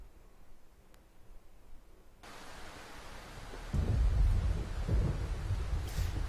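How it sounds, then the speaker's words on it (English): A thunderstorm raging over a cabin roof, starting with faint rain hiss, then a sudden wash of heavier rain and a deep rumble of thunder rolling in loud and close. "And the storm rages on."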